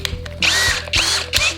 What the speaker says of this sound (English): So we're just going to drill through two membranes.